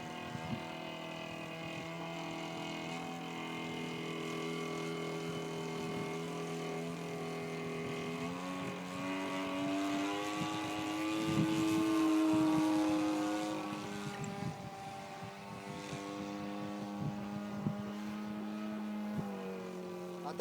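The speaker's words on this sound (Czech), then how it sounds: "A ten motor nejde čistě, asi svíčka." The small engine of a Praga Baby E114 runs continuously with a slightly uneven, wavering hum from a spark plug fault, swelling briefly in the middle before settling back.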